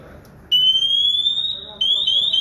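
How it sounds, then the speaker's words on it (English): A loud, shrill electronic distress alarm from a firefighter's PASS device starts abruptly as a rising, piercing tone. It breaks off briefly, then resumes, close and insistent. "if we hear this sound on the fire ground, it tells every firefighter working that we got a firefighter down"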